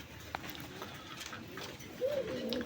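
An old-breed Rasgolla pigeon coos softly, faint and fairly close, with a short rolling call near the end and a few light bumps before it, in a quiet room with no talking.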